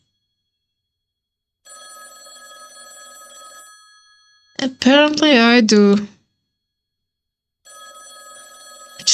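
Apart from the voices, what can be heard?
payphone ringing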